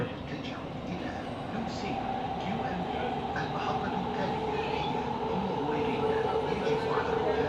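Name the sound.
inside moving metro train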